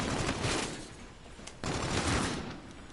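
Rapid bursts of gunfire from the video game Call of Duty: Infinite Warfare crackle in two dense volleys, loud and alone.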